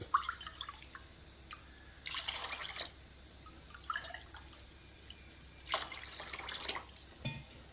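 Water splashes and trickles into a bowl of semiya (vermicelli) in a few short bursts, with quiet pauses and faint clinks between pours.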